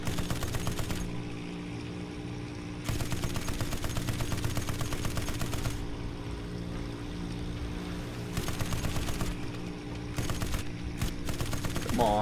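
Rapid bursts of aircraft machine gun fire in the Aces of Thunder flight combat game, sustained rattling volleys with brief pauses between them over steady engine drone.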